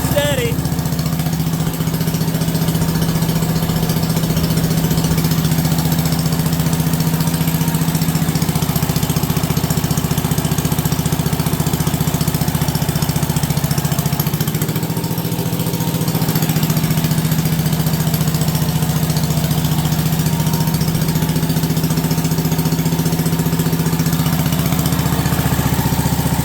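A Wisconsin engine-driven military Signal Corps generator runs with a steady, loud, even drone throughout, with a fan spinning up and people talking over it.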